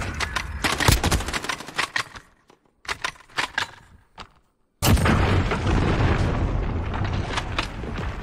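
Game explosions and blasts from Call of Duty: Modern Warfare in Search and Destroy mode, a burst of sharp booms and crackling pops, a brief lull, then a sustained loud roaring blast that rumbles on.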